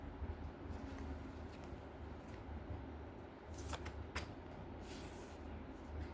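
A deck of tarot-style reading cards shuffled by hand during a card reading, giving a steady, close papery rustle for about six seconds, broken by a few crisper snaps and riffles toward the end, with no talking.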